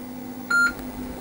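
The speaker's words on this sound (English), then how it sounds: "It's supposed to make a nice beeping sound." A Texas Instruments TI-99 home computer gives a single short, clear electronic beep at power-up over a faint steady hum, with no talking.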